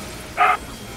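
A single short, sharp dog bark close by in a room, loud against a quiet background.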